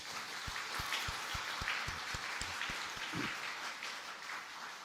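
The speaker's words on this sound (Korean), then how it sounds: "아기를 위해서 한번 박수 한번." Soft, distant applause from a church congregation during a worship service, with a steady patter of clapping and some rhythmic thumps.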